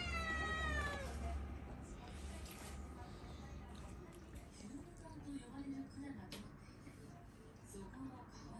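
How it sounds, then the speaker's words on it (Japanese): A cat meows with rising, drawn-out cries that are loud and close at the start, then fades into a quieter indoor background with low, sparse sounds. "泣き猫になるんだ。"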